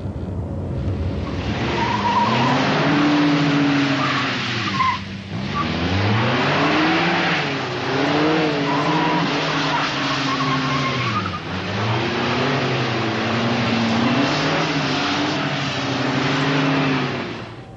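A Mazda car holds one long, smooth turn, its engine note rising and falling in repeated sweeping surges with tyre noise, loud and close throughout.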